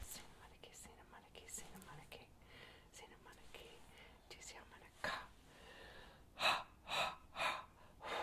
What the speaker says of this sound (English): Breathing in the breath of life.